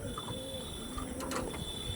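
Faint pigeon coos and soft rustling from birds kept in a collection, set against a low background hum and occasional higher chirping tones.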